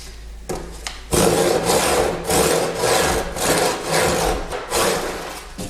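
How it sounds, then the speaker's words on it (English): Handsaw cutting along the curved edge of a wooden wine barrel, rapid rasping back-and-forth strokes in a steady rhythm, close and loud after a brief quiet start. "I'm kind of sawing one way along the edge and then working my way this way"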